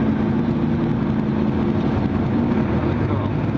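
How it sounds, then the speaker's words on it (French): A car engine gives a steady low hum as the driver eases gently on the accelerator pedal, a constant close drone with no talking heard. "tu mets le pied sur la pédale accélérateur, tu lâches la commande et tu accélères doucement."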